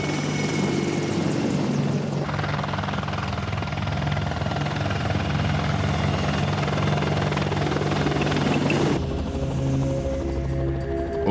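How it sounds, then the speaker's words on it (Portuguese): A military helicopter flying low near the ground roars close by, its steady thudding rotor and engine noise filling the whole stretch without a break. "Voando assim perto do solo, os helicópteros conseguem se aproximar furtivamente do inimigo."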